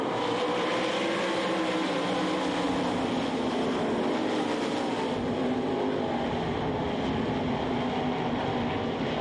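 360 sprint cars racing around a track, a loud, continuous, roaring wash of engine noise that holds steady and close throughout, with no voices.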